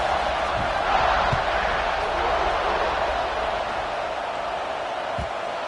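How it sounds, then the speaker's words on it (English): A stadium crowd buzzes steadily at a college football game just before a kickoff, a dense, continuous roar of many voices with a few faint thumps, sustained and fairly loud throughout. "this crowd is buzzing after that last score"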